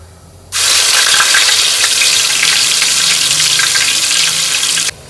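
A paste of spring onion greens, green garlic and ginger drops into hot oil tempered with ajwain for undhiyu, bursting into a sudden loud, even sizzle that holds for about four seconds, then cuts off sharply.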